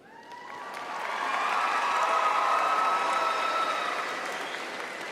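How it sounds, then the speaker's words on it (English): Convention delegates cheering and applauding in a large hall, a swelling wash of claps and shouts that peaks and holds before easing slightly, with no speech over it. "Delegates, please refrain from cheering during discussion of these amendments."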